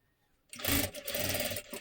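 A sewing machine stitches along the edge of saree fabric for a child's jacket: after a brief quiet moment it starts up with a close, fast whirring run that lasts just over a second.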